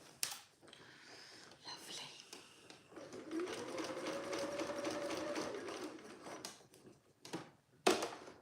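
A sewing machine tacks a seam on a vintage-style shirt dress, stitching over pins in a steady, fairly quiet mechanical whir for several seconds, with soft handling noises and a few sharp clicks around it.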